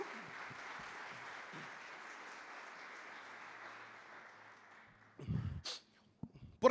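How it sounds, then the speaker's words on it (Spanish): A church congregation applauding during a sermon, a steady, moderately distant wash of clapping that fades out, followed by a few brief close noises. "Denle un aplauso fuerte al Señor por eso entonces."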